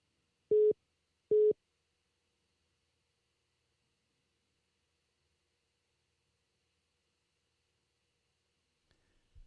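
Two short electronic busy-signal tones beep in quick succession on a telephone line, then long silence follows before a faint low thump at the end.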